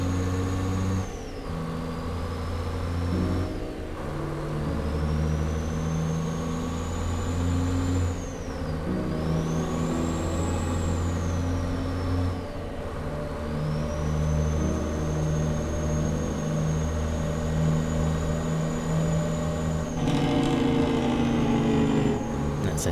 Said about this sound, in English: let's do a little bit of Jake brake action